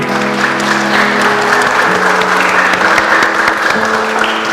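Sustained, dense applause fills an engagement ceremony from start to finish, loud and steady, with musical tones running underneath.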